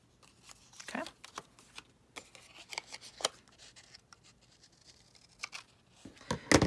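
Scissors snip fabric and threads while a book's inside cover is lined, giving a series of crisp, close cuts at an irregular pace, with soft rustling between them and a quick flurry of snips at the end.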